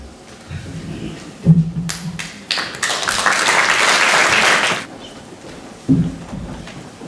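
A concert audience in a community cultural hall breaks into applause, a dense clapping wash lasting a couple of seconds, framed by a few thumps and handling noises before and after.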